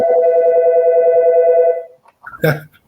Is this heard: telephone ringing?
yes